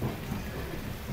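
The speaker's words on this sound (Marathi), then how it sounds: "आणि पाऊस बघा आणि वातावरण बघा." Monsoon rain falls during a train journey near Dudhsagar, a dense, steady broadband wash with a low rumbling undertone and no distinct drops, with no voices.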